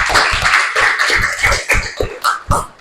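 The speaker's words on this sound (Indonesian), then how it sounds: "Tepuk kita semua." A school class claps together in a quick rhythmic pattern, a series of sharp, loud, evenly spaced bursts of many hands in an indoor classroom.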